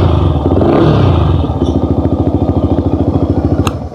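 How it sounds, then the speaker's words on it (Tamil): A Yamaha R15 V3 motorcycle with an aftermarket exhaust gives a loud, close rev, then settles into a fast, choppy, evenly pulsing idle burble. "இதில் வந்து ஒரு எக்ஸாஸ்ட் வேறு வந்து இன்ஸ்டாலேஷன் பண்ணியிருக்காங்க. ஸோ அதோட நோட்டும் கேளுங்க எப்படி இருக்குது"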